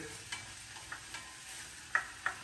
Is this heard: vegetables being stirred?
yes